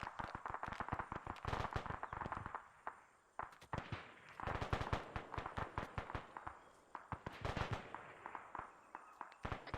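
Rapid bursts of heavy machine gun fire in a military video game, sharp cracking shots in dense volleys with brief pauses, loud and close, no talk.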